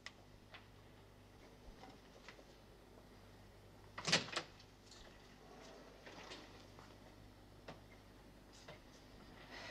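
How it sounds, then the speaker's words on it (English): A door is opened once in a quiet indoor room, a brief, close knock-and-creak that stands out against a faint steady ticking. "Now, can we have the door open again, please?"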